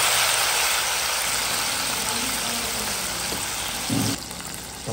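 Tomatoes added to browned onions fry in a pan for a turnip (shalgam) curry, giving a steady, loud sizzle throughout that drops back slightly near the end.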